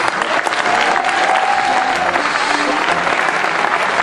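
A large crowd claps steadily at a celebration for youth champions, the applause loud and continuous from start to finish, with some murmured voices and a brief tonal whistle or cheer rising through it.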